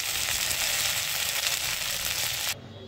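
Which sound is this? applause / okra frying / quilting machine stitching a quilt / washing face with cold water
okra frying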